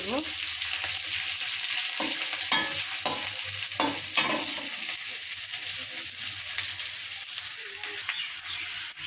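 Oil, onion, garlic and chili fry together in a pan with a bright, continuous sizzle, punctuated by a few soft stirring scrapes, close and steady throughout without speech.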